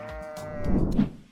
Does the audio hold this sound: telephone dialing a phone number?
no